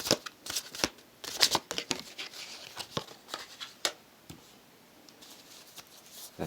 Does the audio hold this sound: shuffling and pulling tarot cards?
yes